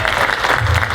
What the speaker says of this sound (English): give them the applause they deserve